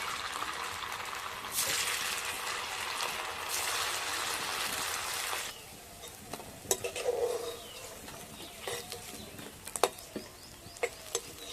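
Homemade paneer, made without milk, sizzles and crackles steadily in hot oil for several seconds. The sizzle then fades into quieter bubbling, broken by scattered clinks and taps from a utensil in the pan.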